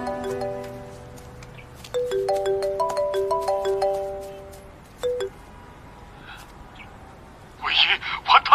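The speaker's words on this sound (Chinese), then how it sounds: "电话。" A telephone ringtone plays a repeating melodic pattern for a few seconds during a tense drama scene, then stops, with voices speaking before and after.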